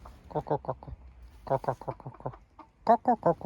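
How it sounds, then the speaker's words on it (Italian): A rooster calls close by in three short runs of harsh, throaty clucking bursts, with brief pauses between them. "guarda che bel gallo, il gallo, Cocco, sì?"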